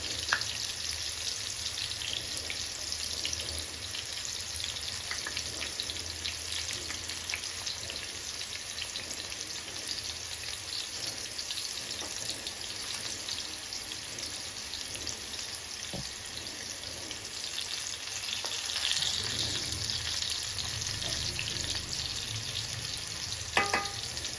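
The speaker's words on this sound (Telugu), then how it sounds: "మీడియం ఫ్లేమ్లో పెట్టి మూత పెట్టాను నేను తొందరగా ఫ్రై అవుతాయని చెప్పి" Bitter gourd frying on medium flame in a covered pan produces a dense, even hiss of sizzling that holds steady throughout, with a slight swell near the end and a few soft clicks.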